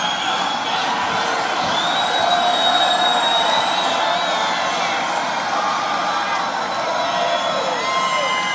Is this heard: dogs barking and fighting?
no